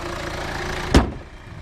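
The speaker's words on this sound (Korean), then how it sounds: "자 엔진 소리 갈갈갈갈" A used Kia Sportage R 2.0 4WD LX idling at a used-car lot: a steady close mid-pitched engine hum with one brief sharp knock or clunk partway through.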